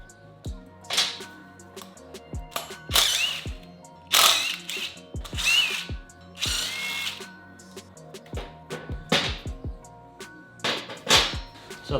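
Power tool and hand tools removing the front brake rotor from a motorcycle, several loud whirring drill bursts separated by short pauses, with clicking and metallic clatter in between, close by.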